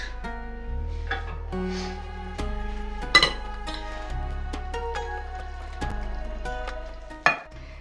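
Minced meat frying in a pan, a low sizzle broken by repeated scraping and stirring strokes, with a couple of sharp metallic clinks against the pan.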